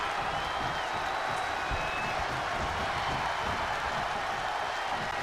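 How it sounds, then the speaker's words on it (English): A wrestling arena crowd roars and claps in a steady, dense wall of noise at an ARW Easter show, loud and continuous with no clear breaks. "The sound of this crowd is deafening, and he's asking for more."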